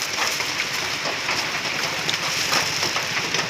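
Heavy rain pours steadily over the Deepor Beel wetland, a dense, continuous hiss of drops striking surfaces close by, with no voices and only a faint hint of wind.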